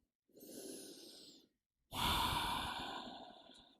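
Slow, deep breaths from a person resting in child's pose during a neck and shoulder stretch: a soft inhale of about a second, a short pause, then a longer, louder exhale, close and alone.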